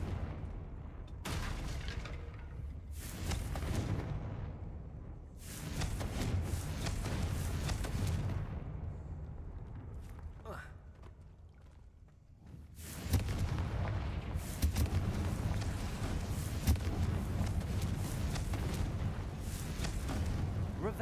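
Confringo fire spell blasts in the Hogwarts Legacy game, deep booming explosions with rumbling tails, several heavy impacts spread across the clip with a brief lull in the middle before more continuous blasting.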